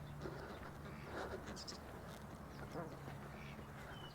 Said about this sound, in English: Are you geese or ducks?